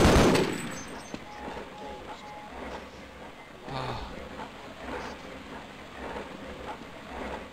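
Rapid weapon fire from the 1998 first-person shooter Half-Life, with bursts of loud, close shots and a sharp opening blast, continuing in uneven volleys under a player's talk.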